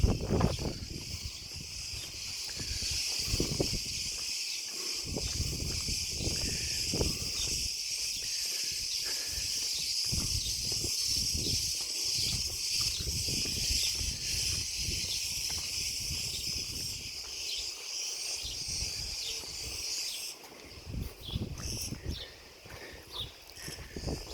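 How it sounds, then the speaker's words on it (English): Dense, steady cicada buzzing fills the air in a high band in a Cretan village, with a quieter stretch near the end as the chorus briefly drops off. "Strange how the cicadas, you get them all chirping at one time and then suddenly they all stop"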